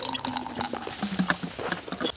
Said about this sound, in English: I guess I'll just fill the Nalgene and get a full Nalgene full of water